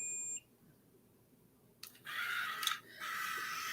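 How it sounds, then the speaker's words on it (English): A single brief high electronic beep from a curling iron at the start, followed by quiet and then a steady hissing rush. "I wish it didn't beep so loud because it's really annoying when it beeps."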